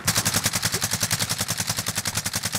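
Rapid automatic gunfire in the Call of Duty Warzone video game, a loud, even burst of shots at a fast steady rhythm that fills the whole stretch with no talk over it.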